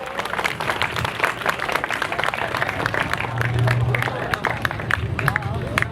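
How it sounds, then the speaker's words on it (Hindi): Live audience at a stand-up comedy show clapping loudly and continuously for comedian Aamir Rambo, with crowd murmur and a voice speaking over the applause. "आपकी तालियां ज़ोरदार होनी चाहिए आमिर रैम्बो के लिए"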